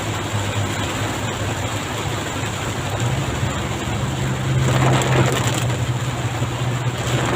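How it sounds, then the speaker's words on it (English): Heavy rain drumming on a car moving slowly at about 40 km/h, a dense hiss over a low engine hum that swells briefly midway, with no talk. "Now, still chucking down a hell of a lot of rain."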